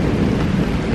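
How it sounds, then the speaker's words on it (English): Thunder rumbles low beneath a heavy downpour, the pouring rain making a loud, dense, steady roar throughout with no voices. "Oh my gosh, there's thunder."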